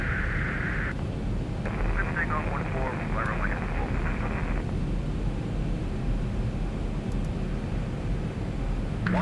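A Zibo 737-800 takes off in the X-Plane 11 flight simulator, its engines giving a steady, even roar throughout while tower and pilot radio chatter crackles over it.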